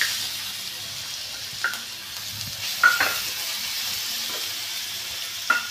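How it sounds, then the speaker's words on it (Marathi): Garlic, red chilli powder and asafoetida fry in oil for a Maharashtrian garlic chutney, giving a soft, steady sizzle with a few brief scrapes of a spoon stirring the pan, close by and without talking. "अर्धा चमचा हिंग आणि यातच आता आपल्याला हा लसूण पण घालून घ्यायचा आहे।"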